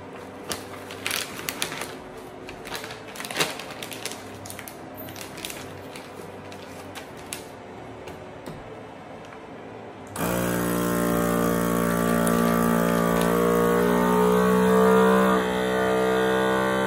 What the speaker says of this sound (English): Next, we're going to seal our meat.